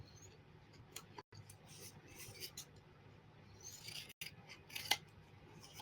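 Scissors trim paper for a small pocket-sized junk journal cover, a string of crisp snips and soft rustles with two brief silent gaps.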